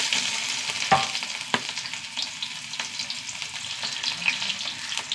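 Sliced shallots, fenugreek and curry leaves frying in coconut oil, a steady, close, crackling sizzle with occasional sharp pops and spatula scrapes, no talking.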